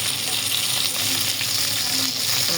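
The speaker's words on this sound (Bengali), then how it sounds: "মাছগুলোকে আমি এপাশ এপাশ করে ভালোভাবে লাল লাল করে ভেজে উঠিয়ে রাখবো।" Fish pieces frying in hot oil, a steady, loud, continuous sizzle and crackle close by that holds evenly without pause and with no talking.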